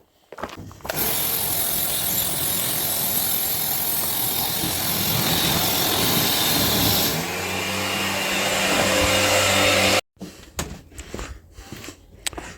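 A pressure washer motor runs with a steady loud droning hiss for about nine seconds, changing pitch partway through, then cuts off, leaving a few clunks and knocks.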